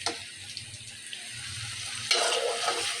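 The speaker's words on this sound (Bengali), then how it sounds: "আমার এই পাশে চুলায়ও আমি ভাজতে দিয়েছিলাম পেঁয়াজগুলোকে" Onions frying in a pan on a side burner during pangash fish curry cooking, a soft steady sizzle that swells louder for the last second with a few light ticks.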